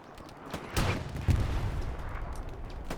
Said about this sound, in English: friendly Axis artillery hitting very close to the Germans here